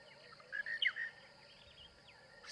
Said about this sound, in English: Much louder dawn chorus than we had the other day.